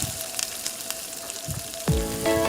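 Chicken pieces being browned in a pan for a traditional roast give a faint, crackling sizzle with scattered pops, and a sharper burst of frying near the end.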